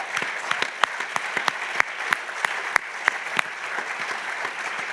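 Audience applause at a forum, a steady wash of many hands clapping with a few sharp, louder claps standing out over the five seconds, close and continuous.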